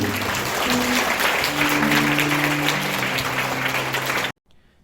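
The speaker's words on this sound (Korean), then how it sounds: "영광의 박수 드립니다" Sustained applause from a large church gathering, steady and full throughout, ending abruptly into near silence.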